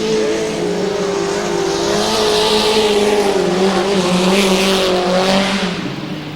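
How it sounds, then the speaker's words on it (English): A vintage speedcar slides sideways through a turn at a speedway exhibition in Brisbane, its engine a loud, sustained droning roar with steady rising and falling pitch, close and alone. "certainly showing us how to get the car sideways as he goes through the next turn"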